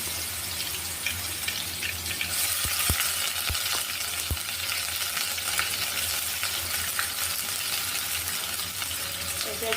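A steady close sizzle of ginger, garlic and cumin paste frying in hot oil for a mustard hilsa curry, with a few sharp metallic clinks from a spoon against the pan.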